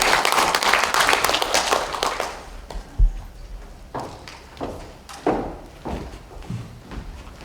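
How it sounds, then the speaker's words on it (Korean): Audience applause welcomes a speaker at a Korean women's forum in a National Assembly conference hall, starting as a dense burst of clapping that fades after about two seconds into scattered claps and thumps. "여러분 큰 박수로 맞아주십시오."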